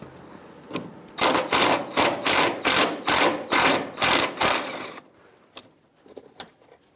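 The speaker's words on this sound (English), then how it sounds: "you can use a 10mm socket and take off your bracket" A ratchet with a 10mm socket loosens a front brake hose bracket bolt on a 2000-2007 Ford Taurus, giving about ten loud, rhythmic clicking bursts before falling quiet, with no talking.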